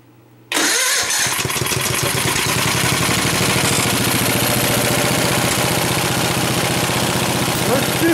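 A homemade go-kart called the Goofy Cart II, its small engine starting abruptly after a moment of quiet and then running loud and steady close by, with a constant throbbing rhythm that holds for several seconds.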